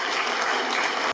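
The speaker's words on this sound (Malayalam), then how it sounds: "ആദ്യമായിട്ട് വിശ്വമാഷയ്ക്ക് നല്ലൊരു കയ്യടി കൊടുക്കാം അതിൽ" Applause from the audience at a Kaipamangalam event honouring music teacher Vishwam Kodungallur, a dense, steady crowd clapping that fills the space evenly and stops abruptly at the end.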